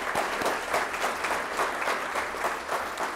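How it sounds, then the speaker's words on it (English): A civic audience at a State of the City 2022 event gives a steady round of applause, many hands clapping evenly and fairly softly for several seconds, with no talking over it. "So a round of applause for you."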